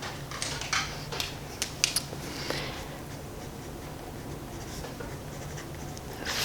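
A pen or pencil scratches out a short note on budget Five Below watercolor paper, with quick, faint scribbling strokes and small taps in the first half, then a quieter steady hiss.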